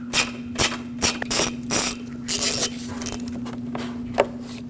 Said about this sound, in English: So with a long extension and a 10mm socket,